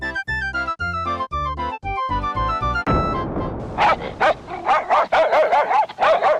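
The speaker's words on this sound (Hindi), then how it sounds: "मुझे देखकर तूने भी भौंकना शुरू कर दिया है?" In a Hindi cartoon, a dog barks and yips in a rapid string of sharp, loud barks, following a short plucked musical jingle.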